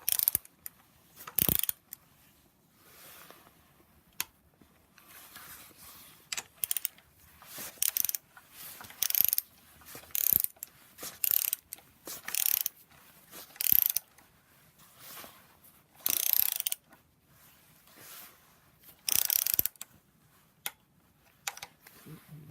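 A torque wrench clicks and ratchets in short bursts while bolts are tightened on a BMW 135i N54 engine during a rebuild, sharp close mechanical ticks separated by pauses.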